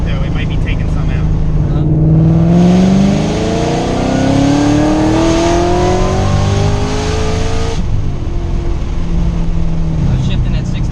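A Ford Shelby GT500 running E85 fuel accelerates hard, its engine climbing in pitch through a gear, dropping at the shift and rising again, then settling to a lower drone; loud and close, with people talking over it.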